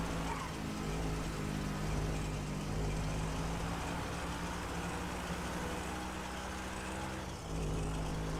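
A car cruising on a highway at about 82 mph gives a loud, steady drone of engine and road noise with a constant low hum, briefly dipping near the end, with no talking.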